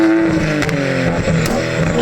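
Manual BMW 135i E82 with a tuned N55 engine running on the road, a loud close engine drone with strong harmonic layers holding steady over two seconds.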